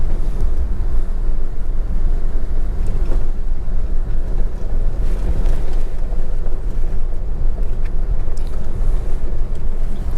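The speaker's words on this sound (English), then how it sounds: "there's no sound like that of the old flatheads" A 1951 Ford Crestliner Custom Deluxe with its flathead engine climbing a steep grade in high gear, a loud steady low rumble and drone throughout, with no speech.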